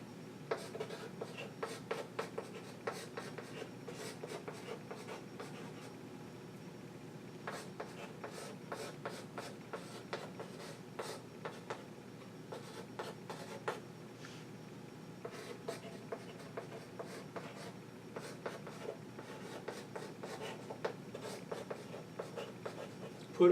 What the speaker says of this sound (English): this chalk is getting hard to write with